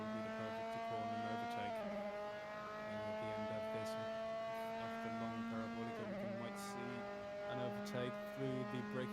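A high-pitched Formula 3 car engine in the Assetto Corsa racing game screams steadily at Hockenheim, its pitch dropping sharply at gear shifts and climbing again, loud and close throughout.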